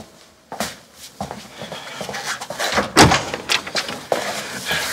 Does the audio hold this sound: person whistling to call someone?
no